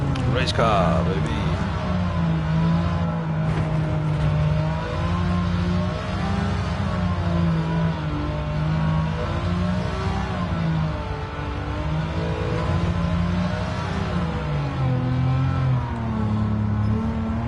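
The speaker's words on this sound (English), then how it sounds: "It's important to listen to the acoustics of the exhaust." A race car engine in Gran Turismo 7 drones and revs steadily throughout, its exhaust note rising and falling, with a voice talking over it.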